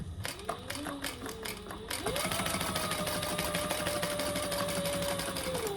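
Sewing machine stitching a seam on a family travel organizer, a steady rapid whirring run that speeds up and holds its pitch after a brief start, with some stop-and-start stitching at first.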